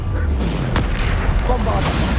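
A Bombarda spell explosion in the Hogwarts Legacy video game lands as a loud boom with a short burst, set amid dense game noise and a voice.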